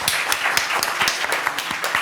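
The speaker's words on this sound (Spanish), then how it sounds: "Démosles un aplauso, por favor." University lecture audience clapping briefly, a moderate patter of several hands with a few distinct louder claps close by.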